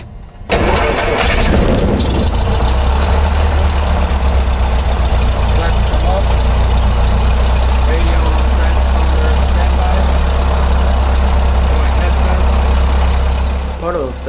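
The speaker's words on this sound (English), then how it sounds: "So go ahead and start the engine." Cessna 152 aircraft engine cranking and catching, then settling into a loud, steady low idle drone that carries on for over ten seconds.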